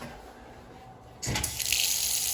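Water suddenly gushing from a tap once the valves on a boiler installation are opened, starting abruptly after a quiet moment and then running steadily and loudly to the end.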